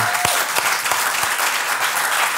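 Audience applause in a studio interview setting, loud, dense and continuous clapping throughout with no voices over it.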